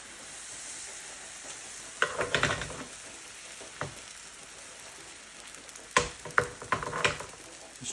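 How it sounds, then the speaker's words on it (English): Butter and a little oil heat in a frying pan on medium-low for pancakes, giving a steady faint sizzle broken by louder bursts of crackling and stirring. "We have a little bit of butter in there and a little bit of oil. That's heating."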